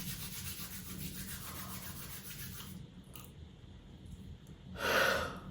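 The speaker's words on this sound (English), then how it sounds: "starting to rub your hands together" Palms rubbed together in a quiet meditation setting, a continuous soft friction hiss for several seconds that fades out, followed by a brief louder breathy burst near the end.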